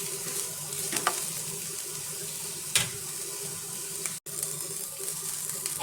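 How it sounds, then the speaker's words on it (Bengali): A bread snack with chopped green chilli is lightly fried and stirred in a pan, giving a steady, fairly loud sizzle throughout, broken by a couple of soft utensil scrapes and one brief dropout. "আর একটু নাড়িয়ে নেবো। হালকা ফ্রাই হবে, বেশি না।"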